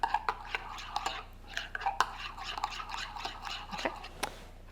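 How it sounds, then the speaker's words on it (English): Peanut sauce stirred in a bowl with a utensil, a quick series of soft scraping clicks and taps close by, with room tone underneath. "so I'm just going to go ahead and stir that up"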